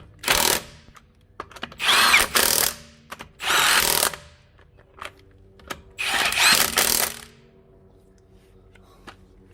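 An impact wrench tightens a wheel on a 2014 Ford Fusion during a front wheel bearing replacement, heard as several loud, short whirring bursts separated by pauses and small clicks.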